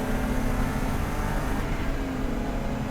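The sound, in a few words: race car engine as tires go light over a hill crest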